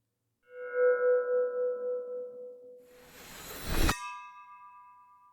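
A bell piece in the video game Dragon Loop gives a clear, ringing chime that sustains and fades, then a brighter rising swell closes on a second, higher bell tone.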